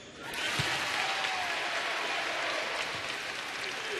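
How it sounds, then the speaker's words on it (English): Crowd applause rings out on senior night at a college basketball game between Belmont and Jacksonville State, a broad, sustained wash of clapping and cheering that fills the arena steadily throughout. "going to get a huge round of applause on senior night here"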